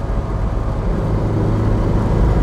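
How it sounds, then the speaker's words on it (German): A 1961 Porsche 356 B T6 coupé accelerates on the road, its engine a dense, steady low rumble heard from inside the car, with no talk. "Boah, der zieht aber richtig. Boah, geht aber richtig nach vorne, das Auto."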